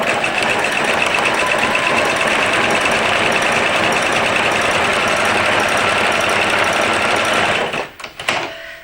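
A sewing machine stitching through fabric, running as a loud continuous mechanical whir and rattle for most of the clip, then stopping with a few clunks near the end.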